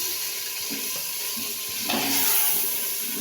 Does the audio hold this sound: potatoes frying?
yes